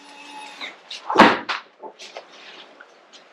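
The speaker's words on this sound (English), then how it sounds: "Door closing." An RV camper entry door swings and shuts with a single solid thud, followed by a few light rattles and clicks in a quiet space.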